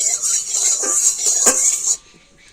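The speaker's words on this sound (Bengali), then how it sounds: "আর এবার তেলটা কড়ার চাইবার একটুখানি এইভাবে ছড়িয়ে দেব" Mustard oil swirled around a kadai (wok) with a spatula, giving a near, steady metallic scraping and sizzling hiss for about two seconds, with a brief louder clatter in the middle, then cutting off to near quiet.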